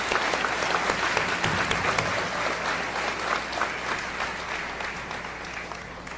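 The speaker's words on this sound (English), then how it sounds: "Another round of applause for that," Sustained audience applause at a high school graduation ceremony, many hands clapping densely and steadily for several seconds with a faint crowd murmur underneath.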